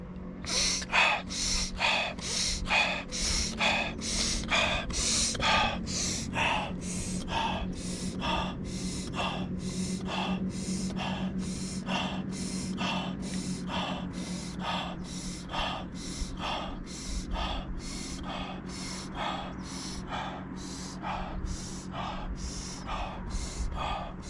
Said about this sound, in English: now let's get all the way into that round of Wim Hof. Just follow the cues here. It's about 30 breaths in.